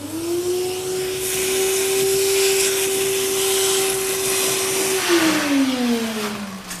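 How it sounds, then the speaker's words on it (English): Hoover vacuum cleaner sucking old debris out of a hole during Victorian home renovation, a steady loud whine with a rushing airflow roar, pitch dropping as it winds down near the end, no talk. "the best way to get this out is with a hoover."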